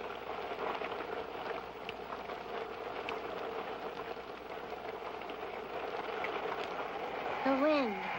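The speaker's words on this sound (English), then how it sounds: "and rain." Steady rain as a sound effect, an even, continuous hiss of drops pattering throughout, fairly soft, with a short voice-like sound rising near the end.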